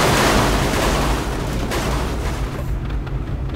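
A tank cannon in a video game fires and explodes in one heavy, sustained boom, loud and close, with a rumbling roar that slowly fades.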